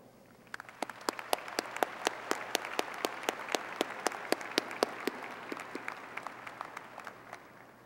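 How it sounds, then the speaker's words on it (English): Graduation commencement audience applause at West Virginia University's Eberly College of Arts and Sciences, a dense roomful of clapping in a large hall, with a few sharp individual claps standing out near the microphone throughout. "please join me in a round of applause"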